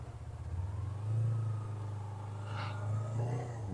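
A motorcycle engine hums low and steady at moderate distance, swelling slightly as the clutch is feathered through a slow U-turn.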